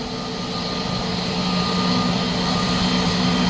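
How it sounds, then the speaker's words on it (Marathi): An Air India airliner at Mumbai international airport gives a loud, steady jet roar with a broad rushing hiss and faint tonal hum, constant for several seconds without speech. "हे विमान आता उड्डाण भरण्यासाठी तयार झालंय।"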